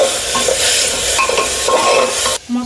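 Vegetables and spices for daliya sauté in a hot pan, a loud close sizzle with scraping stirs of a spoon against the pan, ending with a short break in the frying.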